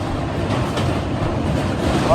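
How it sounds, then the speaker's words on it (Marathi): A train passes through the Chambal valley after heavy rain, a steady loud rolling rumble filling the whole stretch, with a rising whine or squeal at the very end. "ट्रेनचा आवाज बघू शकता"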